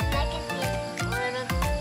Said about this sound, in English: They're frogs.